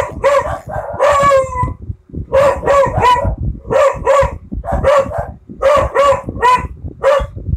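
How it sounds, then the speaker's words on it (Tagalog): A pet dog barks and howls up close in a loud, insistent series of bursts, with a short pause before the calls resume in repeated clusters. "nag-ingay po yung aking alagang aso"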